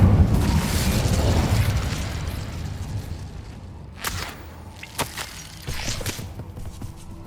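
Incendio fire spell cast in Hogwarts Legacy: a loud whooshing burst of flame rumbling and fading, then several sharp crackling pops and snaps.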